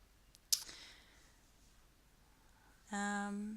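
A single sharp mouse click sounds near the start while downloading a citation into Endnote, quiet and close, followed by a pause and then a voice beginning to talk.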